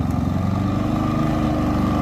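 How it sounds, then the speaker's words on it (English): A Westinghouse iGen5000DFC dual-fuel inverter generator runs close by, a loud steady engine drone with a low throbbing rumble as it revs up slightly, no talk. "you can hear it revving up a bit"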